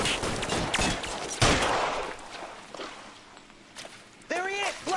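Gunshots in L.A. Noire: a few loud cracks stand out amid a busy, noisy game soundscape with bursts of other action, while a person talks over it.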